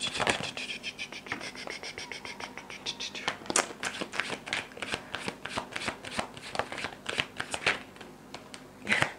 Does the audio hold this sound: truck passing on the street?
no